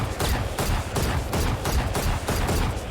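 Rapid bursts of gunfire in the video game Valorant, fired as a steady rhythmic string of sharp, loud, close shots with no pauses.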